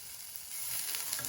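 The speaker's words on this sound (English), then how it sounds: "Frying the peppers like this will help release nice flavor which we'll be needing for our recipe" Green and yellow bell peppers and onion fry in coconut oil in a pan, giving a steady, close sizzle that grows slightly louder partway through, with no talking.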